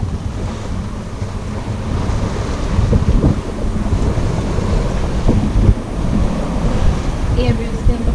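Ocean waves and strong wind while a sailboat crosses the Pacific, a loud continuous rush of surf and buffeting wind noise on the microphone, swelling and easing throughout.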